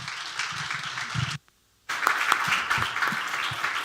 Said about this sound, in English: let's have a round of applause for all the panelists